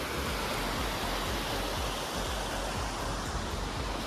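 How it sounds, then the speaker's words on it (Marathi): Water flows steadily in a stream beside a restaurant near Zakopane, a continuous broadband rush that stays even and fairly close, with no speech over it. "तिथून मस्त असं पाणी वाहतंय"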